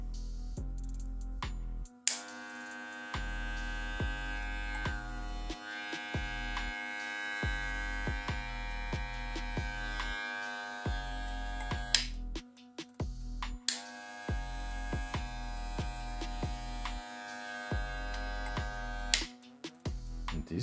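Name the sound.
Wahl 1919 hair clipper running during RPM test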